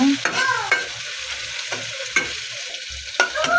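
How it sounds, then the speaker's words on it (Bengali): Chopped garlic and two medium onions stir-frying in a pan for a sea-fish bhuna, with a steady sizzle under repeated scraping and clinking strokes of a spatula, close and without talk. "মিডিয়াম সাইজের 2টা পেঁয়াজ কুচি দিয়ে বেশ কিছুক্ষণ নাড়াচাড়া করে একটু ভেজে নেব"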